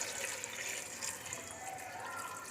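Water poured into a chana dal kabab mixture in a home kitchen, a steady, fairly faint liquid rush with a running-tap quality that lasts the whole moment, with no voices over it.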